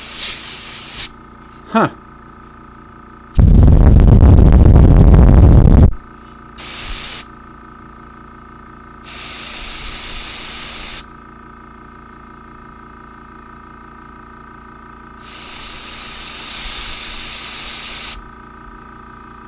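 A paint spray device hisses in separate bursts, one long loud blast followed by shorter and longer sprays with quiet gaps, close by, with a brief murmur from a person between them.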